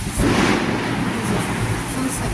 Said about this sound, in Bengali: মুসুলধারে বৃষ্টি হচ্ছে